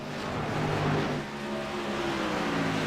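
A NASCAR stock car in the iRacing Coca-Cola 600 coasts with its engine off-throttle, giving a fairly quiet, steady low hum and drone with a faint whine held throughout and no voices over it.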